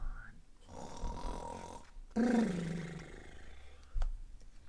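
A voice imitates a bear's snoring with deep, rumbling drawn-out snores and growly breaths, close and loud.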